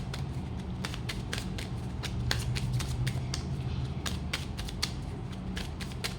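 Tarot cards shuffled and drawn during a reading, a busy stream of soft papery riffles and flicks over a constant low background hum, close up with no speech.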